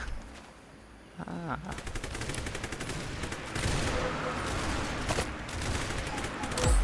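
Video game gunfire: rapid automatic bursts rattling loudly and nearly continuously, with voices talking in the background.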